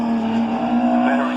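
Classic sports race car powering out of Quarry Corner at Castle Combe circuit, a loud sustained engine note holding steady with a faint rise in pitch over a short burst.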